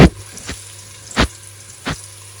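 Onions and green chillies sizzle and fry in a hot pan, with three or four sharp bursts of crackling over a steady low hiss, nearby and moderately loud, with no talking.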